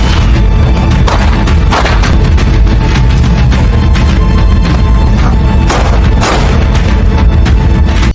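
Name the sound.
gunfire and explosions in a film shootout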